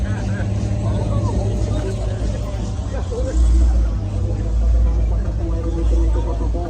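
A car engine rumbles and revs at an outdoor car meet, with low swells of power rising twice under a busy crowd of people talking.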